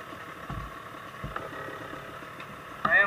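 An enduro motorcycle engine idles in a steady low rumble outdoors, swelling slightly louder at the very end.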